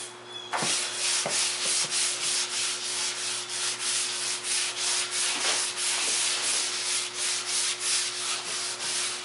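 Primer on a motorcycle fuel tank is hand-sanded with 320 grit sandpaper in a steady back-and-forth scratchy rasp, with regular strokes about every half second. A constant low electrical hum runs underneath.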